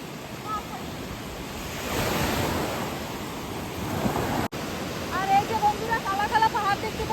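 Sea waves wash onto the shore at Neil Island in the Andamans in a continuous loud roar that swells midway, mixed with wind buffeting the microphone and a few faint chirps toward the end.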